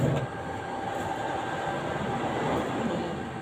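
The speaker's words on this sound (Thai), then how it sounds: "แล้วเราก็เย็บคืนนะคะ ตัวนี้เย็บชายแล้วก็สะโพกเข้าค่ะ" A sewing machine stitches the hem of a long dress, giving off a continuous, fairly quiet mechanical whirring and rattling throughout.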